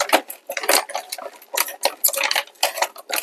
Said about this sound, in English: I do have a plastic spoon that we got somewhere that I can stir this up with